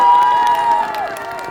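A crowd cheers and claps at a completion ceremony for a shopping street in Jeomchon, Mungyeong, right after the mayor's speech. It is loud and dense from the first moment, with a sustained shout or tone riding over it before it fades slightly.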